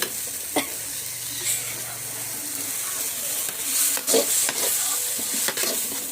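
Curry leaves frying in a pan while being stirred, a steady crackling sizzle with scattered sharp pops and scrapes of the spoon, close and moderately loud, no talking.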